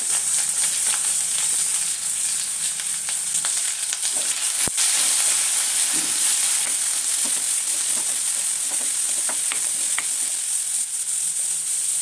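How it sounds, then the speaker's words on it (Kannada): Mustard seeds, green chillies and finely chopped onion hit hot oil for egg shavige bath, giving a loud, steady, hissing sizzle with scattered small pops and crackles that stays even for the whole stretch, no talking. "ಸಾಸಿವೆ ಹಾಕ್ಕೊತಾ ಇದ್ದೀನಿ, ಹಸಿಮೆಣಸಿನ್ಕಾಯಿ ಮತ್ತು ಸಣ್ಣಗೆ ಹಚ್ಕೊಂಡಿರೋಂಥ ಈರುಳ್ಳಿ"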